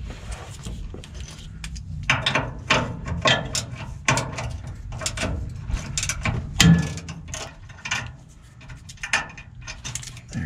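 Hand ratchet clicks in rapid bursts while bolts come off a Chevy OBS truck during a fuel system job, with metallic clatter and tool handling, close and moderately loud.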